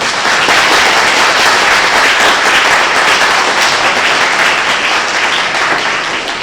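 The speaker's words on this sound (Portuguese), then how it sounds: "Palmas de novo, gente." Loud, dense applause from an audience at the close of a data science talk, continuous clapping holding strong for several seconds before easing slightly at the end.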